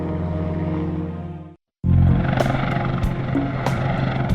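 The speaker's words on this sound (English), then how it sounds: "56 Charlie is a Super Puma helicopter serving the North Sea oil platforms off the coast of Britain." A Super Puma helicopter flies toward North Sea oil platforms off Britain, its rotors and engines making a loud, steady roar that cuts out briefly and then returns alone.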